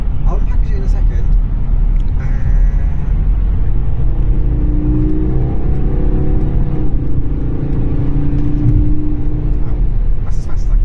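A Citroën BX 16 TRS Mark 1 accelerates with a loud, close engine drone that rises in pitch, and a voice talks over it.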